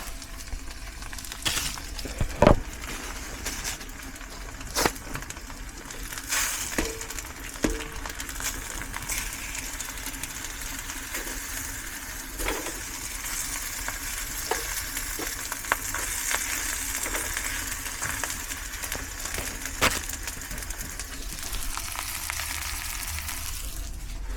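Hash browns fry in a pan with a steady close sizzle, punctuated by scattered clinks and scrapes from the spatula as they are turned.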